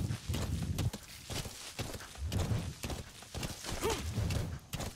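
A horse walks in Metal Gear Solid V, its hooves making a steady, rhythmic clip-clop at close range over a continuous outdoor game backdrop, with a brief snort-like call near the end.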